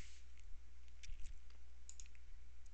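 A computer mouse clicking on a desktop, a few sharp, light clicks scattered over a quiet, steady background hum.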